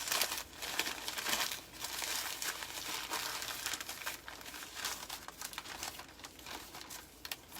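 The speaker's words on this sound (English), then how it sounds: "So I'm just gonna grab some paper. Okay. And I am gonna start just wrinkling it" Paper is crumpled and wrinkled up close with steady crackling and crinkling that keeps on without a break and without any talk.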